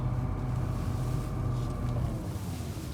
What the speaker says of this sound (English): Engine sounds like a regular BMW V8, but you hear a lot more valve train noise with it.